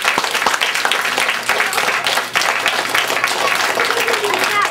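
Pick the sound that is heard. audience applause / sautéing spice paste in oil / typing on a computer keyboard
audience applause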